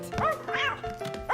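A cartoon dog in a children's animated show barks and yips a few times in quick succession, fairly close, with a whining, high-pitched edge.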